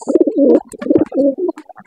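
A pet pigeon perched on a man's shoulder gives a loud, close run of throaty coos in quick repeated phrases, with no talking.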